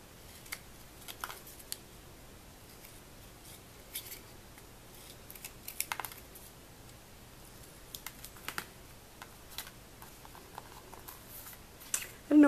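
Scissors snipping around a paper piece for a scrapbook page, a string of quiet, irregular crisp clicks and cuts close by over a low steady room hum.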